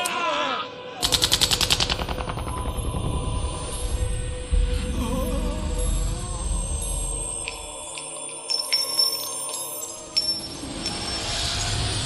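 Soldiers open fire in Final Fantasy XIII, a loud sudden burst of rapid automatic gunfire that gives way to a mechanical whir, scattered metallic clinks and a few sharp bursts near the end.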